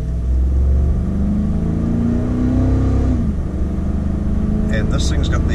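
A 2013 Ford F-150 with the 5-liter engine pulls away on the road. The engine roars loudly and close-up from inside the cab, its pitch climbing under acceleration and then settling, with a brief scratchy noise near the end.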